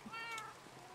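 A cat in the video game Minecraft gives a single short, faint meow, with low voices murmuring quietly underneath.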